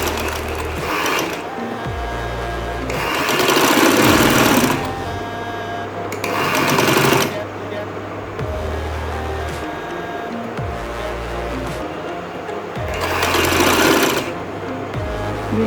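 An electric sewing machine stitches a collar onto a men's kameez, running in three loud, steady bursts of rapid mechanical whirring with brief quieter pauses between them, close to the listener.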